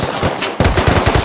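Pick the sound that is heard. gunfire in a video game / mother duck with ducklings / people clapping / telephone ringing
gunfire in a video game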